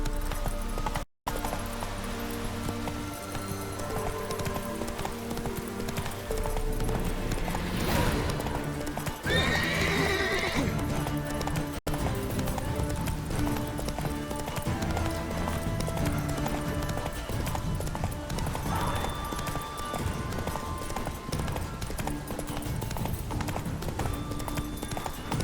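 Hoofbeats of the horse Roach clip-clopping in The Witcher 3: Wild Hunt, with a whinnying neigh partway through, loud and steady over background game music and ambience.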